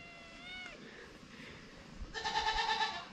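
A cat meows twice, the second call longer and more strained, close by and fairly clear against a quiet room.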